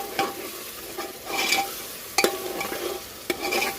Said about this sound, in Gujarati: ને 1 લીંબુનો રસ એડ કરી દેશું, અડધું ફાડ્યો, ને મિક્સ કરી દેશું